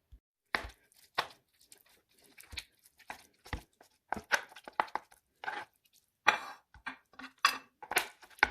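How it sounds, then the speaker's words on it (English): A knife chopping soft cooked beef tongue on a cutting board in a series of sharp, close chops with uneven spacing and short pauses, picking up speed toward the end. "start chopping it in little pieces for the tacos"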